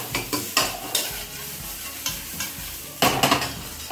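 Vegetables sauté over a high flame in a pan, with a steady sizzle broken by repeated sharp scrapes and knocks of stirring, close and fairly loud.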